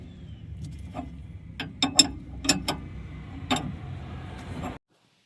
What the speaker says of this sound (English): 7/8 wrench